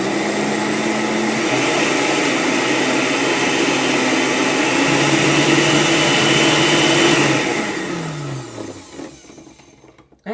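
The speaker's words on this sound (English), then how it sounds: "We're going to blend this up." A blender grinds Epsom salts and baking soda in a loud, steady motor whir for about seven seconds, then spins down with a falling pitch and stops.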